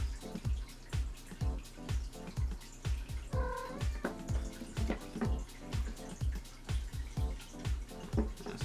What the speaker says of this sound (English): And there is one of our cats, Miss Mandy.